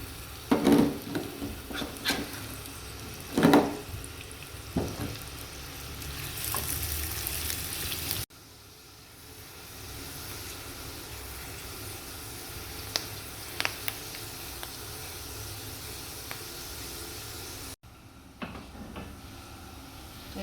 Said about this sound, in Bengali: তেল দিয়ে দিচ্ছি, এখন পেঁয়াজ বেরেস্তা করব।